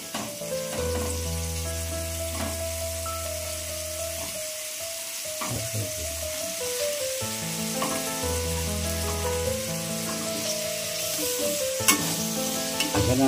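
Vegetables such as corn, peas and cauliflower stir-fry in a pan for vegetable cheese Maggi noodles, with a steady sizzle and occasional stirring scrapes under prominent background music.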